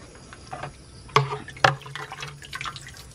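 Liquid from squeezed, month-fermented seaweed drips and splashes into a container, a few soft trickles and two sharper plops, close and quiet.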